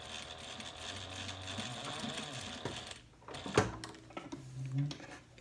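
A sewing machine stitches a fabric slip pocket, its motor whirring in a steady run for about three seconds, then stopping and restarting in short bursts with handling clatter, close and moderately quiet.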